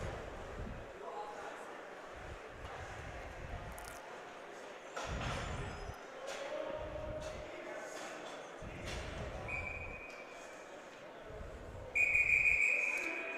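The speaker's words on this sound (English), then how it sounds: "Officials blowing that one dead as the Pelini, Goldman, and Rolston line" A referee's whistle shrills at a high school varsity ice hockey game in an arena, with two short blasts near the end over continuous play-by-play commentary and rink noise.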